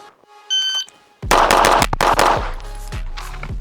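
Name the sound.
rapid gunshots from Viking X NJG Valknut 5-inch pistol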